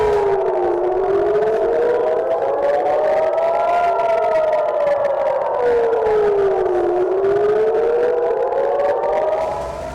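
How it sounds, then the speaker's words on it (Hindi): An air raid siren sounds in Israel during a rocket attack, its loud, steady wail slowly rising and falling in long sweeps, with a second tone layered beneath it. "सायरन की आवाजें सुनाई देने लगी थी।"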